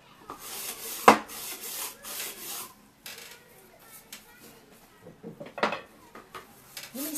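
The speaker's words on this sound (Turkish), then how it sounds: "O yüzden şöyle bulaşık teliyle yapıyorum" A steel dish scrubber rubs dried paint off a wooden frame in irregular rasping strokes, mostly faint and close, with a couple of sharper scrapes and bumps.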